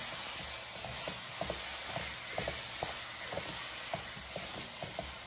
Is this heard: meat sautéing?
yes